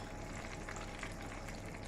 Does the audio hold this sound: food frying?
yes